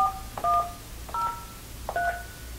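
Telephone keypad tones from pressing programmable feature keys on an ESI business phone: three separate two-tone beeps spaced about three-quarters of a second apart, clear and close over a quiet hum.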